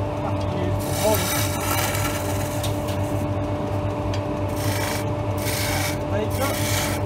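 Skew chisel point cutting a wood spindle on a lathe, continuous rough rubbing and scraping over the lathe's steady hum, with faint hissy swells as the tool works.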